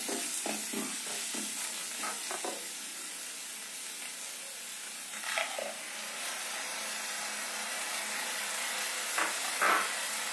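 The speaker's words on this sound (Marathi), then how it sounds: "आता आपण यामध्ये टोमॅटोची प्युरी ऍड करणार आहोत." Tomato puree goes into a hot pan of hotel-style chicken tikka masala, producing a steady sizzling hiss broken by several short stirring scrapes nearby.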